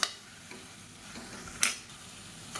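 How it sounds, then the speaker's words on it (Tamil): Thin radish slices sauté in hot oil with a soft, steady sizzle, and a few sharp scrapes and clinks of a spoon stirring against the pan sound close by. "இப்போ இதையும் எண்ணெயில் சேர்த்து வதக்கி விட்டுக்கலாம்"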